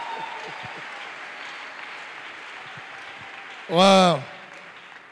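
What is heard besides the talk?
church congregation applauding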